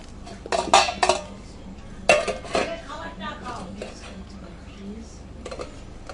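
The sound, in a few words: covering a white tiffin box with its lid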